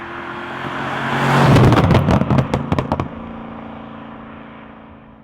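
A 4.2-litre V8 in a B7 Audi RS4 accelerates hard, its engine note rising loudly, then a burst of sharp pops and crackles comes through before the revs drop to a lower steady drone.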